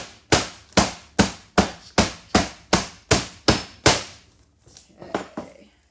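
Sharp hammer blows on wood ring out close and loud, about nine evenly spaced strikes in a steady rhythm, followed by a few softer, irregular taps and knocks.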